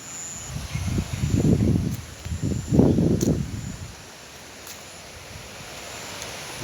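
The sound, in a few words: strong wind with rain in garden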